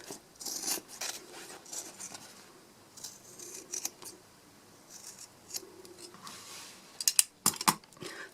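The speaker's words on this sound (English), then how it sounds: "take my scissors and cut all the way around." Scissors snip through fabric and embroidery stabilizer in a series of crisp, irregular cuts, close up, with quiet rustling between snips and a quick flurry near the end.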